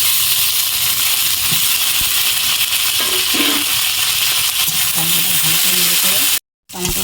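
Chopped tomatoes hit hot oil with browned onion and black cumin, giving a loud close sizzle and hiss with stirring scrapes, a brief gap near the end, and no speech.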